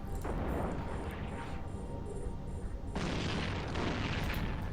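Heavy 720mm howitzer artillery from EVE Online booms in a dense, continuous low rumble, with a fresh burst of firing near the three-second mark.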